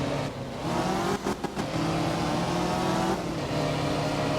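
A rally car engine drones at steady high revs on a snowy stage in the racing game Art of Rally, loud and continuous with brief dips as the throttle lifts, with no voices over it.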